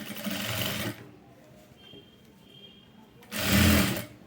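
A sewing machine top-stitches leaf-model piping, running in two loud bursts at the start and end with a quieter gap between.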